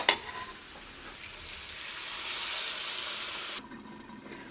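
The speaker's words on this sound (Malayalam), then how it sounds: "ഇതിലേക്ക് നമ്മൾ ബാക്കിയുള്ള വെള്ളം കൂടിയിട്ട് ചേർക്കാം കേട്ടോ" Water is poured into a hot pan of chicken curry, setting off a loud hissing sizzle that swells, holds for a few seconds, then cuts off.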